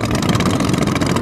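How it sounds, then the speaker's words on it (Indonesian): A racing boat's piston engine, fitted to a boat in a race at Labuhan Jontal, runs steadily at a loud, rough idle after starting, filling the short stretch with no talk over it. "Inilah mesin sudah dihidupkan."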